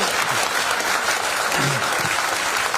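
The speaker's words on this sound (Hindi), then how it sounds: "थोड़ा तालियां क्यों नहीं बज रही थी?" Audience at an agricultural products training session applauding, a steady burst of clapping from a room full of people lasting about three seconds at even loudness.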